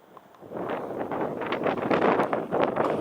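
Wind among mountains in France buffets the microphone in loud, rough gusts that build after a quiet start and stay strong throughout.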